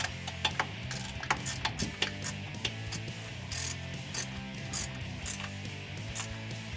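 Ratchet clicking in rapid bursts while 15 mm bolts are tightened on a ReadyLIFT 1.25-inch front leveling kit on a 2021-2022 Ford Bronco, close and fairly quiet with brief pauses between strokes.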